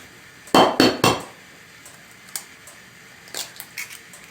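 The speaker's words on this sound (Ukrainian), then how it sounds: "до пюре вбиваю яйце." Three sharp taps of an egg against a bowl rim, then softer clinks and a light splat as it drops into mashed potatoes, close and clear with no talking.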